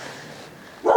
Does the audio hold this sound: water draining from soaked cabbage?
no